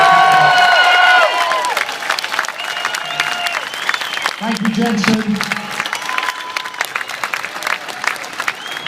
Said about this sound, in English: Big round of applause, Jenson Button!